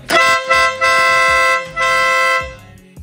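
Loud, brassy Marco Tornado aftermarket car horn honks, several bursts of varying length in quick succession, close and harsh, with no talking.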